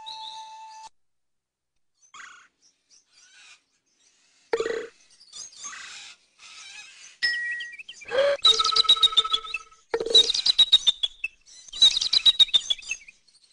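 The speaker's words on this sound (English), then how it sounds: "that eagle has a pretty small call." An eagle gives a small, thin call, a few brief high chirping notes repeated in short bursts, fairly close and alone with no talk.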